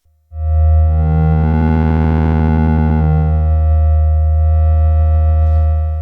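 A loud, sustained analog synthesizer tone from a Sequential Prophet 5 or FOURM with buzzy harmonics, its timbre sweeping and wobbling as the filter moves, then settling into a steady drone.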